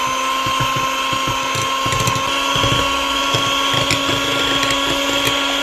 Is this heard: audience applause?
no